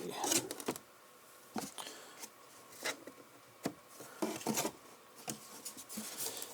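Sanding or rasping rounds off the wooden corners of a Eurorack suitcase, giving quiet intermittent scraping strokes in uneven bursts with pauses between them and no speech.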